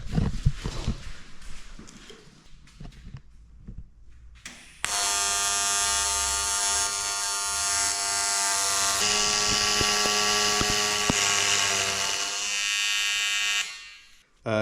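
Tack welding on a fat bike frame conversion: after a few seconds of quiet clatter, a loud, steady buzzing hum starts abruptly and holds for about nine seconds with a slight change partway, then cuts off.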